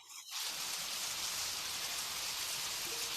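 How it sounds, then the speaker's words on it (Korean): Steady outdoor rain falling in a park, a dense continuous hiss of drops on surfaces that rises after a brief quiet start and holds at an even level, with no voices. "빗소리."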